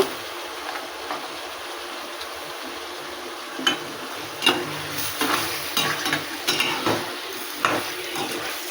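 Chicken liver being fried in oil sizzles steadily in a pan, with a constant crackling hiss and a series of scraping, knocking stirs from a utensil in the second half.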